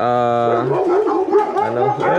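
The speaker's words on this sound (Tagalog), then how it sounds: "Lahat kayong mga aso kayo. Magsitahulan na kayo." Several large guard dogs, including a Doberman, Cane Corso and American Akita, bark and yelp close by in quick overlapping bursts, with a drawn-out whining howl at the start.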